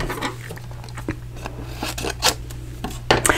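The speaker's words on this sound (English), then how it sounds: "I need to cut this down a little bit." Cardstock for a birthday card being cut down, giving close, brief scissor snips and paper rubbing over a low steady hum.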